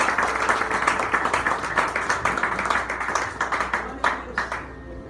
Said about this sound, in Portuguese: Aplauda o nome do Senhor mais uma vez